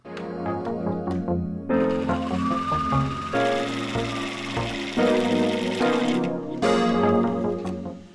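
A sewing machine stitching a quarter-inch seam on a dress, running steadily at close range in bursts over a tonal, music-like background, with no speech.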